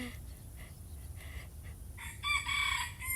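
A rooster crows on a vegetable and tomato farm, one drawn-out cock-a-doodle-doo rising near the end over low rumbling background noise, with softer clucks just before it.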